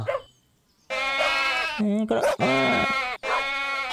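Loud, close goat-like bleats with a harsh wavering tone, several in a row with brief gaps, set among other game sounds in the video game Dog Simulator 3D.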